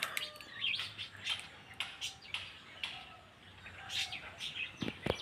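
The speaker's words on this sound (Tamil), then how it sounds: "இந்த குருவியெல்லாம் தான் தண்ணி கண்டோன்னா எவ்வளோ அழகாக வந்து குளிக்குது பாருங்க" Sparrows bathing in irrigation water near a tree chirp and tweet in scattered bursts throughout, with light rustling and splashing in the outdoor background.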